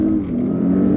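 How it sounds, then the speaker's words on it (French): A 700 hp Audi S8 launches hard on launch control: a loud, steady engine roar heard from inside the car, held for about a second without a break. "je veux juste voir ce que ça fait un launch control quand c'est pas toi qui tiens le volant"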